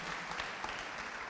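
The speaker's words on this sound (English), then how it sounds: "Can we give Richard Curtis another round of applause" Audience applause for Richard Curtis, a soft, steady patter of many hands clapping without a break, heard at a distance and fairly quiet.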